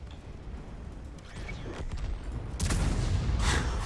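Heavy tank gun fire in World of Tanks from an AMX 50 Foch 155 firing HE shells: rumbling blasts and booming reports building to a loud crack near the end, with a dense low roar throughout.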